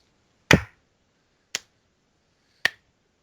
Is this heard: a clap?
yes